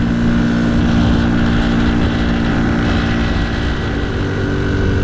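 An old Honda C90 Cub motorcycle pulls up Birdlip Hill in third gear. Its engine gives a loud, steady, continuous drone heard up close with wind noise and no talking.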